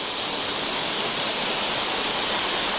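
Constant rushing roar of a waterfall in South Cumberland State Park, a bright hiss with no pauses, steady and fairly close.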